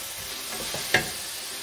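Tomatoes sauté with salt in a pan, making a quiet, even sizzle with one sharp metallic tap partway through and no voices.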